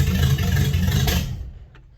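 A 1956 car engine running rough and slightly loading up, with a loud low rumble and a brief rev that cuts off sharply after a second and a half, leaving near silence.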